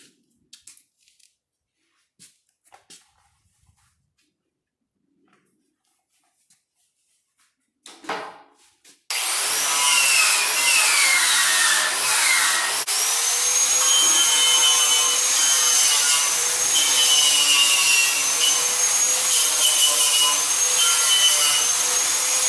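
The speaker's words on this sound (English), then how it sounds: "So I'm going to continue cleaning these holes up" Holes being cleaned out on a Harley-Davidson motorcycle gas tank in a welding shop: a few quiet ticks and clunks, then a loud, steady power-tool whine that runs on without a break.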